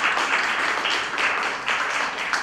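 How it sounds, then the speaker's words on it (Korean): Audience applause at a lecture event, a steady wash of many hands clapping in waves, fairly close and filling the whole stretch with no talking over it. "박찬하 연수원장님께 다시 한번 큰 박수 부탁드립니다."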